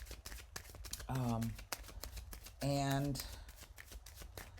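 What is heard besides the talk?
shuffling a deck of tarot cards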